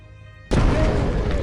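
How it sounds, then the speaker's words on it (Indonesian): A sudden loud blast bursts in after a brief quiet hum, then a sustained rumbling roar of debris and noise continues. "terdengar suara ledakan dari luar"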